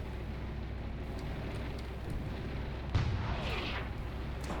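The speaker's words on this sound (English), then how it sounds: "I believe I'm being shelled by mortars" Mortar shelling in the war game Graviteam Tactics Mius Front: a single dull impact boom lands midway over a constant low battlefield rumble, muffled and somewhat distant.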